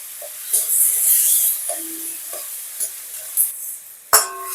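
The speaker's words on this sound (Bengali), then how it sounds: "এবার মাংসটাকে ভালো করে কষে নেব" Marinated chicken sautéed with fried onions in a pan for homemade chicken biryani: a steady soft sizzle runs throughout, broken by intermittent stirring scrapes and a sharper metallic clank near the end.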